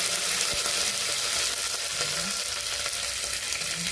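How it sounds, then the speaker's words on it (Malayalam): Mustard seeds and curry leaves fry in hot coconut oil, with fenugreek already in the pan, for a Tamil Nadu style fish curry. A steady close sizzle carries light crackles and pops throughout, with no talking. "കടുക് പൊട്ടിയതിന് ശേഷം കറിവേപ്പില ഇട്ട് കൊടുക്കാം."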